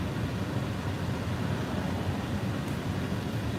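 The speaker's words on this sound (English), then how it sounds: "the noise you hear is the heat in the car because it is kind of cold." Steady broadband rush of a car heater fan blowing warm air inside a vehicle on a cold day, a constant loud whoosh with low rumble and no talk.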